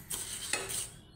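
Moong dal is dry-roasted and stirred in a pan, heard as a faint, brief rustle of grains with a couple of light spoon scrapes against metal.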